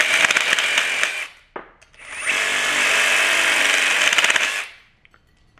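MKK HI rotary shear (HRS-1) driven by an impact driver cutting scrap steel plate: a loud, close, steady grinding-whir lasting about three seconds after a brief start and stop, ending abruptly.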